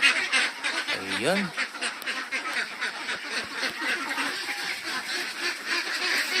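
Ducks on a duck farm in the Philippines, a mix of native brown-and-black itik and mixed-breed birds, give a short burst of honking quacks early on amid a steady flock din, with someone talking briefly.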